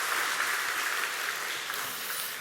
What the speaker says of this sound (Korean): 우리 권사님들을 위해서 한번 박수 한번 해주시면